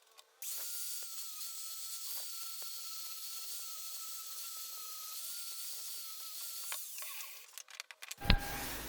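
A power drill whirs steadily for several seconds while drilling wheel-mounting holes in a workbench, a continuous mechanical whine with small fluctuations, then cuts off into brief clattering handling noises.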